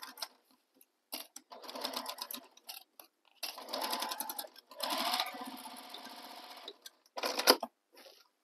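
A sewing machine stitches a tote bag seam in short stop-start runs, each burst of rapid needle clatter lasting a second or two between brief pauses, close and clear with no talking.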